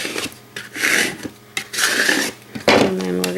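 A sticker is rubbed down firmly onto a Christmas shadow box in several repeated close strokes, each a dry, scratchy rasp broken by short pauses.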